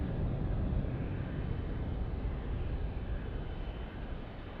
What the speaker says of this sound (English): That is our Chicago O'Hare arrival from United Airlines